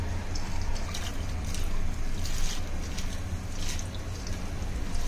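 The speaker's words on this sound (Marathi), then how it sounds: "पाण्याला उकडी आले" Water comes to a boil in a cooking pot for sprouted mixed legumes (moong, matki, masoor and small chawli) for misal pav, giving a steady, close, rushing bubbling that holds even throughout with no talking.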